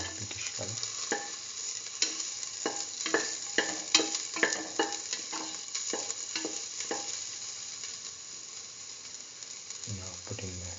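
Shallots sizzle steadily in hot oil in a pot while a spoon stirs them, with repeated sharp scraping strokes over a constant frying hiss that eases toward the end.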